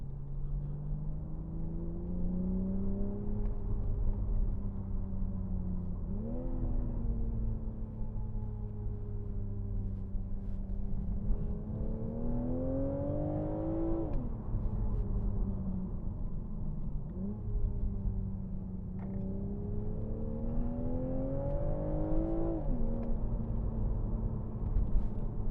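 A 2019 BMW Z4 M40i engine in sport mode drones loudly and steadily, its pitch rising in several repeated swells as it revs up, then dropping back between pulls, with no voices over it.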